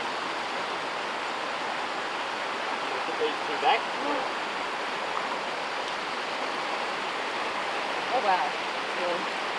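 Fresh creek water flowing along an off-road track in the Pilbara, a steady broad rushing wash heard alone, with a brief voice exclaiming partway through.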